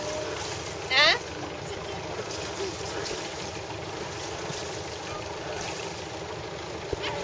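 A boat's motor idles slowly while the boat sits nearly stopped in a waiting queue on the water, a low steady drone with wind and water hiss around it.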